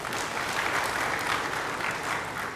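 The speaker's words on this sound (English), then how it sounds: "Can we have another round of applause" A burst of steady applause from an audience, dense clapping throughout without pause.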